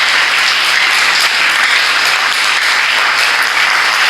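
A church congregation applauds and cheers at a worship service, a dense, loud, steady wall of clapping and voices that runs on without a break.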